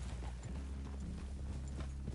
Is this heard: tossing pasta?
no